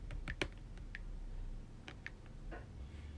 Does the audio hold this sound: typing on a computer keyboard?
yes